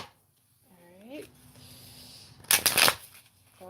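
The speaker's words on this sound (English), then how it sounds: "One more shuffle here" Tarot cards are shuffled in a quick burst of papery riffling, loud and close, following a short stretch of speech and a brief tone.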